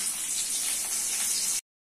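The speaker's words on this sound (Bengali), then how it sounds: "গরম হয়ে গেছে, দিচ্ছি পেঁয়াজ কুচি" Chopped onion drops into hot oil in a pan where small bitter eggplants were just fried, giving a steady, loud, close sizzling hiss that stops abruptly.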